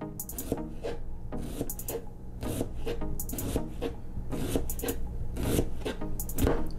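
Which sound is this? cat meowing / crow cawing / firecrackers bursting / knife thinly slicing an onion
knife thinly slicing an onion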